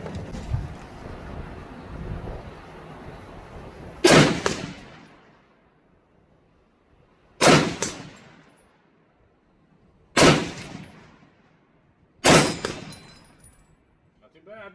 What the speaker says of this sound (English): Shoot a couple of rounds here at 100.